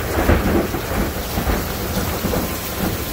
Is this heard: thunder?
yes